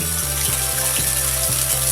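Steady rushing water from a nearby waterfall at Water Chikli Park in Rangpur at night, a dense continuous hiss with a faint regular pulsing underneath.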